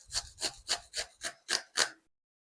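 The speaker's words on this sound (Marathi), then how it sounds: "अशा प्रकारे काकडी इथे किसून झाली आहे." Fresh cucumber rubbed over a hand grater: seven steady, evenly spaced rasping strokes, close and clear, then silence.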